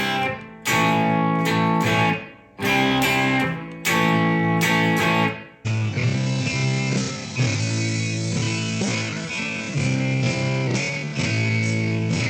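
Electric guitar strummed in a band's live tuning, the open strings ringing between chord changes of a song; loud, steady strumming with brief cut-offs early on, then a sustained full band-like wash of chords.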